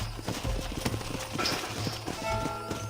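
Steady clip-clop of horse hooves at a walking pace in the video game Red Dead Redemption, fairly close, with a horse's whinny and faint background sounds.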